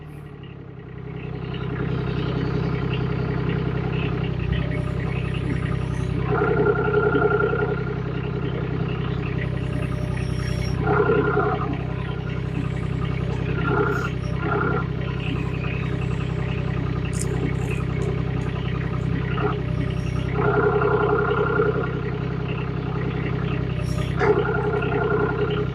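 An excavator engine runs steadily with a JoyT5 custom attachment fitted and the quick hitch in use, a loud, continuous low rumble with a few brief clanks and mechanical rattles over roughly twenty-five seconds.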